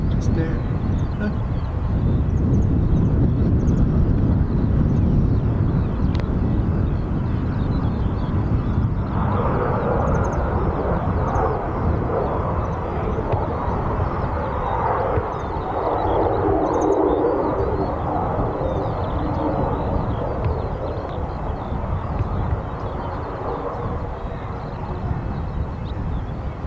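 A Delta Airbus A330neo jet airliner takes off at Dublin Airport, a loud sustained engine roar over wind noise that slowly fades, with people talking throughout.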